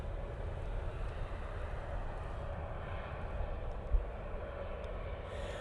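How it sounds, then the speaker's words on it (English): A Ryanair Boeing 737-800 at Manchester Airport gives a distant, steady low jet rumble that holds evenly, with no talk over it. "Ryanair 737-800."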